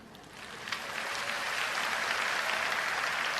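A church congregation at a healing service breaks into applause, the clapping rising within the first second into a dense, steady wash of many hands that holds at full strength to the end.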